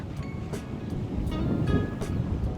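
Gentle surf rolling in at a clear, calm beach on northern Tsushima island, Nagasaki, a steady soft wash of small waves with light wind buffeting the microphone and no talk.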